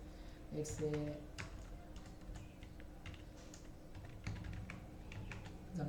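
Quiet, uneven tapping on a computer keyboard in short bursts and scattered keystrokes, with a voice speaking faintly at times.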